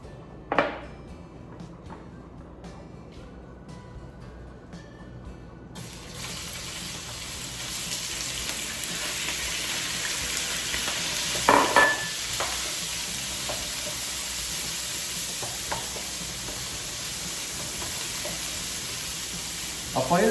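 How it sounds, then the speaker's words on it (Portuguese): Meat browning in a paella pan for paella valenciana, a steady close sizzle and frying hiss throughout with occasional stirring scrapes, no talk over it. "nós vamos entrar com as carnes para que elas dourem e deixem, né, aquele rastro saboroso no fundo da panela."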